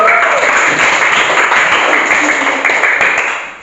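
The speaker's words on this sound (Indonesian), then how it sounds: "Tepuk tangan dulu untuk semua" Group of students applauding the classroom groups' presentations, a dense, steady clatter of many hands that stays loud throughout and tapers off at the end, with faint voices mixed in.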